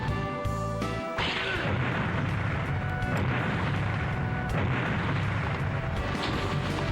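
Grenade explosions in a Pokemon Legends video game battle, a loud burst followed by several more blasts. Booming rumbles run without a break under a busy mix of game effects.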